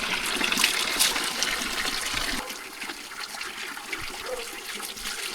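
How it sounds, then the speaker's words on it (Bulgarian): Water gushes and splashes steadily at a monastery spring as it is poured out for washing, a continuous bright rush close by with no talking. "Измивам с тази вода,"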